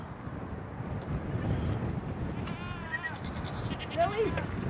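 Baby goats bleating outdoors in wind, a couple of wavering cries rising over steady wind noise, near and moderately loud, with faint voices in the background.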